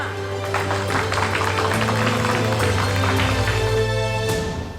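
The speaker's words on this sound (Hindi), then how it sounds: "अबे का हर बार बोलना पड़ेगा का? तालियां।" Applause at a festive Navratri gathering in a Hindi TV drama, a steady wash of clapping mixed with background music that holds throughout and fades at the end.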